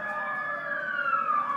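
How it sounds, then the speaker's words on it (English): An ambulance siren wails as the vehicle drives past, its sweeping tone bending and shifting as it goes by at moderate distance, with no talking over it. "the ambulance driving by"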